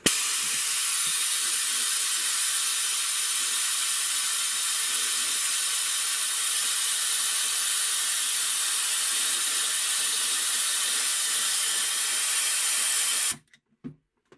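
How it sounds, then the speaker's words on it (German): Compressed air rushes through a pneumatic vacuum generator with a vacuum pad attached, making a loud, steady, broadband hiss that holds for about thirteen seconds and then cuts off abruptly, with no talk over it. "Da fließt aber auch wesentlich mehr Luft durch den Erzeuger."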